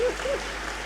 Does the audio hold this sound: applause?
yes